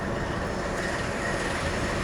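A long-distance passenger train bound for Ndola runs along steadily, with a continuous loud rumble and rushing noise that never lets up.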